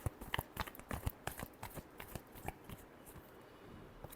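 Tarot cards are shuffled up close in a quiet room, giving a quick run of soft papery riffles and taps that thin out toward the end.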